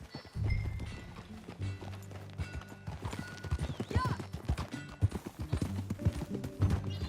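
Horse hooves clip-clop in a steady walking rhythm in Red Dead Redemption 2, moderately close, mixed with other in-game sounds and a horse's whinny.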